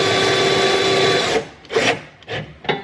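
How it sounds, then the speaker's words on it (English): A power drill tightening bolts on a Toyota Tacoma bed track, a loud sustained whir that stops abruptly, followed by three short bursts of drilling as the bolts snug down, close up. "So I'm just going to tighten it till the drill bogs"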